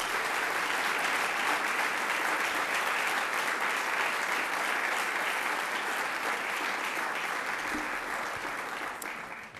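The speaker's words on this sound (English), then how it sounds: "give you a big round of applause" Sustained applause from a large audience at a White House Presidential Medal of Freedom ceremony for Shimon Peres, honoring his standing family, a dense steady roar of clapping that holds loud and even before easing slightly near the end.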